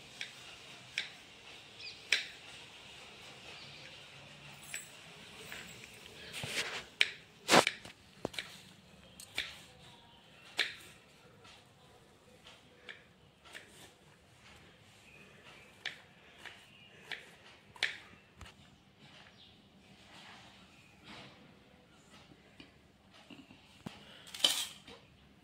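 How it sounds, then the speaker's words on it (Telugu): A knife slices garlic cloves into thin rounds on a board, giving sparse, irregular sharp ticks and taps against quiet kitchen background over a long stretch, with a few louder clacks. "ఈ వెల్లుల్లి రెబ్బల్ని సన్నగా చక్రాల మాదిరి తరిగి పెట్టుకోవాలి ఫ్రెండ్స్"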